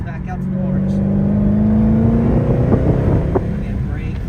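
A Dodge Charger Hellcat Widebody accelerates on a track course, its engine note climbing steadily and loud from inside the car, with tyre and road roar underneath and a voice talking over it.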